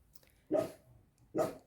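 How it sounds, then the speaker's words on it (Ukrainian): Two short barks from a dog a little way off, spaced about a second apart, with quiet between them. "Собаки проти, щоб я знімала."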